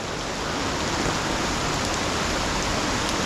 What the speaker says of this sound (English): And it's rain everywhere.